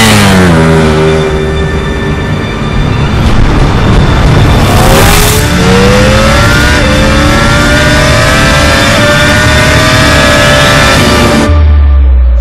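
A Ducati Panigale V4 superbike engine at Sepang Circuit, loud and continuous, with the pitch climbing through gear changes as it accelerates, then a brief rumble at the end, with no talk.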